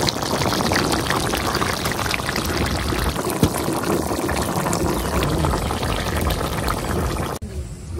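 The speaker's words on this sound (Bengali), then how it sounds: "এখন একটু ঝোল দিয়ে দিলাম আলুটা সিদ্ধ হওয়ার লাগে" Broth is poured into a pot of hilsa, potato and brinjal curry, a steady, close liquid pour that continues without pause for several seconds before cutting off near the end.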